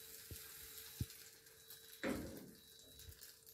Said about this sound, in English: add your cooking oil and immediately put your mixture in the pan